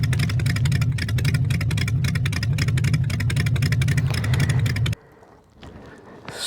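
A KTM Duke 790 motorcycle engine runs with a loud, rapid, throbbing pulse that holds steadily, then cuts away abruptly into quieter rumbling and wind.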